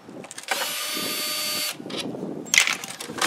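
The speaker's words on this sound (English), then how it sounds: "So you pull those out with your handy dandy drill." A cordless power drill whirs for about a second backing screws out of a plastic catch basin lid, followed by shorter tool bursts and clicks nearby.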